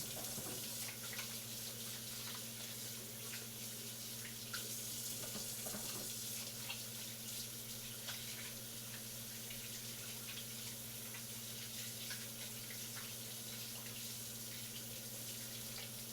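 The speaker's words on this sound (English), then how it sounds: "Let's wash the hands." Tap water runs steadily into a sink while hands are washed, a constant close rush with a low hum beneath it and occasional faint splashes.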